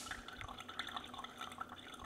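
A thin, steady stream of water pours slowly and low from a Brewista Artisan or Cuppa CWK-100 gooseneck kettle, making a soft, continuous trickling splash that stays faint and even, with no talk over it.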